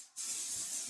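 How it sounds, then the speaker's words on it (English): A single burst of eucalyptus spray hisses from an aerosol into the air indoors, close and steady, lasting nearly a second after a brief quiet start. "Spray this around everywhere."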